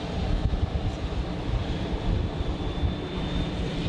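A Pilatus PC-12 turboprop passes at Zurich Airport, a broad steady rumble with a faint rising whine, mixed with wind noise and no speech.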